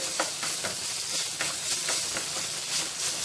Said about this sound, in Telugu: ఇందులో కొద్దిగా అల్లం వెల్లుల్లి పేస్ట్ వేసుకోవాలి లైట్గా ఇది కొద్దిసేపు ఫ్రై చేసుకోవాలి